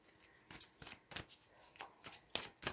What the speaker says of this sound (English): These big cards are so hard to shuffle for me.